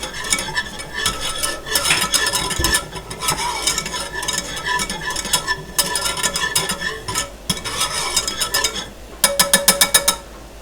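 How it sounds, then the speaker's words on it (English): Flour is stirred in a pot for vegan keto cauliflower mac and cheese, a utensil scraping in repeated close strokes against the pan over a low sizzle, ending in a quick run of rhythmic scrapes. "And just keep stirring."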